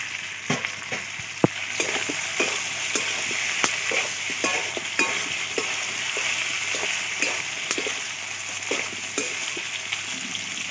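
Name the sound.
fried potatoes added to chicken curry, sizzling and stirred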